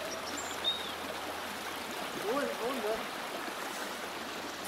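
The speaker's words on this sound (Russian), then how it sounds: "Из него тоже вода идет." Water streams and trickles steadily out of a pond in the background, with faint bird chirps and a few brief sounds over the flow.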